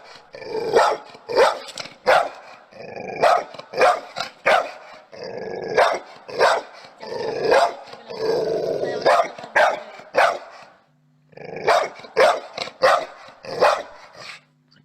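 A dog barks and growls in repeated loud bursts close by, the rapid volleys broken by short pauses.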